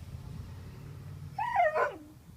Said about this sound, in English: I got a puppy over there.